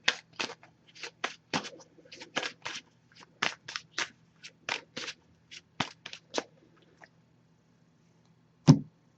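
Oracle cards being shuffled in a quick series of crisp riffling bursts, close up, followed by a pause and one final sharp tap.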